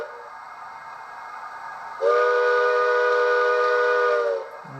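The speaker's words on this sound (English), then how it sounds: "F3 short whistle." A single steam whistle blast from a Bachmann HO-scale 2-8-0 locomotive model, a loud, steady chime tone lasting about two and a half seconds after a quiet lead-in, then cutting off cleanly.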